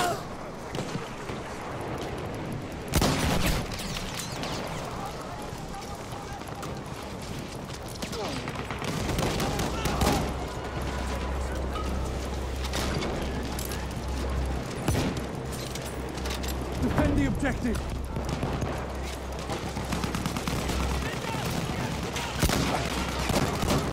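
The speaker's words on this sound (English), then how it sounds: "Machine gun." Machine gun fire in a war video game, with dense, continuous bursts and scattered distant shots over a steady rumble and a low engine-like drone.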